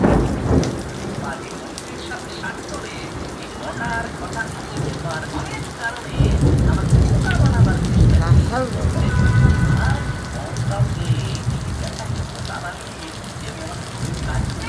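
Steady rain pours during a thunderstorm, and a deep rumble of thunder swells midway before easing back to the hiss of rainfall; indistinct voices may be faintly present.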